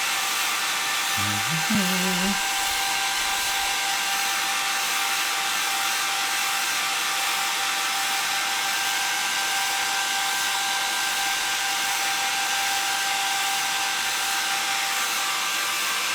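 A hair dryer on a very hot setting blows over a model at a live modelling show, a constant, even roar that runs unbroken from start to finish, with a brief murmur of voice near the beginning.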